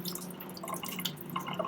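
Running tap water splashes over a stained peripheral blood film slide held at a laboratory sink, soft close trickling and dripping with small irregular splashes over a low steady hum.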